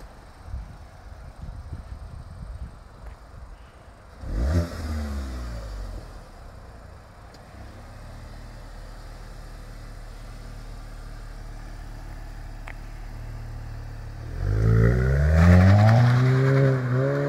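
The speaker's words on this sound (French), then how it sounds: "Tu nous fais une petite ligne droite, Baba, qu'on voit au passage de rapport s'il y a toujours cette détonation ou pas?" Front-wheel-drive car pulling away and accelerating along a straight on an icy road, checked for a detonation during gear changes: a rising engine surge early on, a steady drone, then a louder rev climbing through the gears near the end. No talk.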